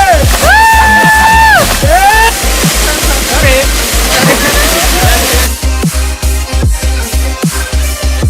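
A steady roar of falling water from a waterfall over 20 metres high at Pemotongan, Ketambe district, Aceh Tenggara, continues throughout, while voices talk and call loudly over it.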